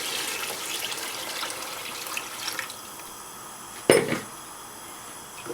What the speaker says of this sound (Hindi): इसमें पानी ऐड कर लें।